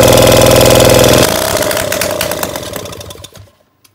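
A Solex 3800 moped's small two-stroke engine, running without its jet, sputters and runs at a steady buzzing idle, then slows and dies away into silence.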